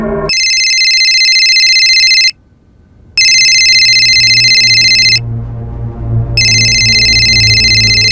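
A telephone ringtone trills loudly in bursts of electronic warbling tone with short silent gaps between rings, heard close and alone with no voices over it.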